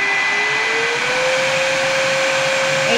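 A new lightweight vacuum cleaner runs steadily and loudly, with a constant whooshing airflow and a high motor whine that rises slightly in pitch early on, with no talking over it.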